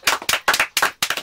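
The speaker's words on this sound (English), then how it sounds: "Can we get a big round of applause for everybody that you bigged up today?" Several loud, sharp hand claps in quick uneven bursts during a radio show, close by, a small burst of applause with no talking.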